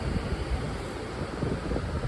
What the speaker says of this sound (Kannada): ಹಿಂಗೆ ಗರಂ ಗಾಳಿನೇ ಬರ್ತದೆ ತಣ್ಣು ಬರಲ್ಲ